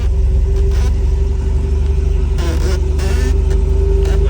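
Restored MGB GT sports car engine running steadily on the road, a continuous low rumble with a faint steady whine and brief mechanical rattles as someone speaks over it.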